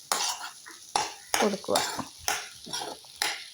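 Sardine roe mixture being stirred in a frying pan, a utensil scraping the pan in repeated close strokes with a faint sizzle, and brief speech over it.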